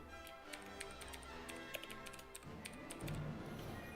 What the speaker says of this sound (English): if you could hear my keyboard there, it's because it's a mechanical keyboard